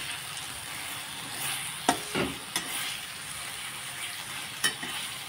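Masala sizzles in hot oil in a pan as it is sautéed for fried fish, a steady frying hiss broken by a few sharp clicks of a spatula stirring against the pan.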